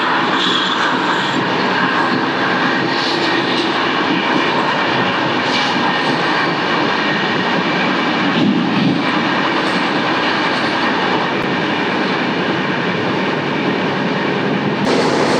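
Uday Express double-decker train running between Visakhapatnam and Vijayawada, a loud continuous rumble and roar of wheels on rails heard from onboard, steady throughout with a few faint clacks and no talking.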